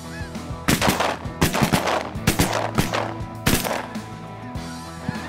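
Shotguns fire at a flight of snow geese during a hunt, with several close, loud blasts in rapid bursts and geese honking throughout.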